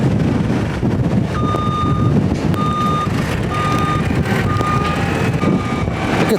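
A chemical delivery truck sets off toward a farm, its engine rumbling steadily amid wind noise while a reversing alarm beeps repeatedly at regular intervals close by.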